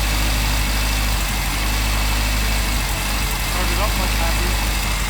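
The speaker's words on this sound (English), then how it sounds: "Popping in the back. Bit of a misfire." Nissan 240SX engine idling roughly with a misfire and popping from the exhaust, a steady close engine drone throughout, with a voice speaking over it.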